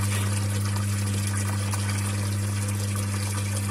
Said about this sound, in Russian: Вода сейчас пока вонючая идет, вот эта вот, которая стоячая